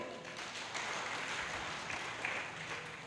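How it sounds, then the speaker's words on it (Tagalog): Church congregation clapping steadily, a dense continuous patter of many hands at moderate volume. "Pumalakpak nga po lahat ng nakakaunawa sa akin."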